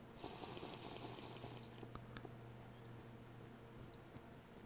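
Flowing water in the video game Minecraft MineZ, a steady rushing wash that is loudest over the first two seconds and then settles into a softer, continuous trickle with a few faint clicks.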